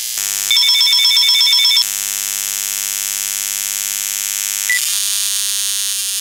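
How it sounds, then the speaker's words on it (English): A wireless home phone gives off electromagnetic interference picked up as a loud, steady electronic hum with a buzzing tonal burst near the start and another brief shift toward the end, alone with no voices. "Let's hear what it sounds like from the wireless home phone."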